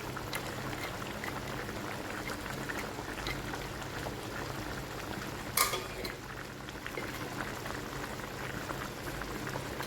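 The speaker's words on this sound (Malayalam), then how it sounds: "ഇറച്ചി കറിയെല്ലാം തിളച്ച് തുടങ്ങി." Chicken curry boils in a pot, a steady close bubbling and sputtering that runs throughout at moderate volume, with one brief clink of a utensil midway and no talking.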